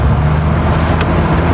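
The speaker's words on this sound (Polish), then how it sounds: "Bardzo szybki wóz, co zaraz wam pokażę" Dodge Viper V10 rumbling in Warsaw traffic, a loud, close, steady low engine drone heard from inside the car, with a brief click partway through.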